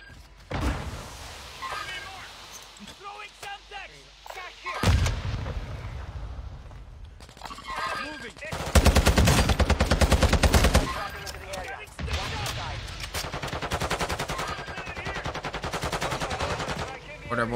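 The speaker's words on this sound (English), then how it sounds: "Mortar." Repeated mortar and gunfire bursts from a video game battle, heavy booming blasts followed by dense rapid firing, loud and close, with a voice talking intermittently over it.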